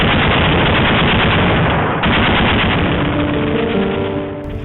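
Rapid automatic machine gun fire in continuous dense bursts, loud and close, fills the whole stretch from a combat scene in Afghanistan, easing slightly toward the end with no talk over it.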